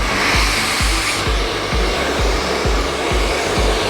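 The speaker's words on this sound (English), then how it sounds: "Just grab the hair and keep working it until you get those roots really good and dry." Handheld hair dryer blowing at close range while hair is worked and dried at the roots, a loud, constant rushing whoosh with a low rhythmic thumping pulse underneath and no voices.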